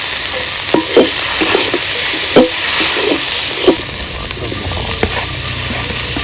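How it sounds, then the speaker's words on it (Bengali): Spices for a fish curry sizzle and fry in a pan while a utensil stirs and scrapes at irregular intervals, close and fairly loud, with no talk. "মশলাটা ভালো না কষলে রান্নাও ভালো হবে না।"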